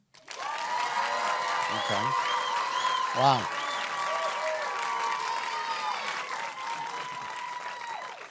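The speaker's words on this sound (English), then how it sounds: "Let's do a round of applause for Mayor." Studio audience applauding the Mayor on a talk show, a sustained roomful of clapping with voices speaking over it and brief exclamations.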